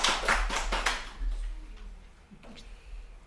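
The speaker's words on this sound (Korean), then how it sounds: "목사님께 박수 부탁드립니다." A church congregation at a Korean Sunday service claps for the pastor in a short burst of applause that thins out after about a second, leaving scattered claps and a faint voice.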